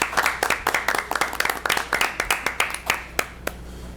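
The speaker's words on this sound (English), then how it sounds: "So a round of applause." Audience at a school district board of education meeting applauding, distinct individual claps forming a moderate, uneven round that thins out toward the end, fairly close and without talk.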